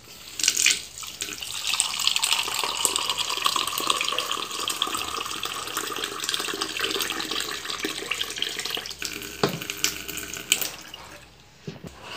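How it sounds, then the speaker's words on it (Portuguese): Water from a tap runs steadily into a pot of rice cooking on a home stove, a continuous close splashing rush lasting several seconds before it cuts off, with no talking. "vou colocar mais um pouco d'água"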